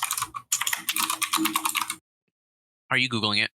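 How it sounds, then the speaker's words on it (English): Rapid clattering of a computer keyboard being typed on, close and steady for about two seconds, then a pause before a voice speaks briefly. "I can always hear your keyboard."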